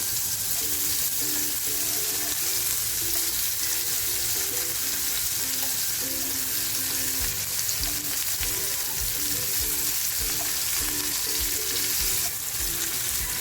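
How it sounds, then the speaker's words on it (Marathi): Paneer cubes fry in oil in a pan, a dense, even sizzle that holds steady for the whole stretch, with faint low knocks from the pan and no speech. "आपलं पनीर फ्राय होतंय ना"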